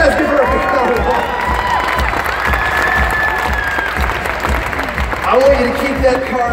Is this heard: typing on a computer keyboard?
no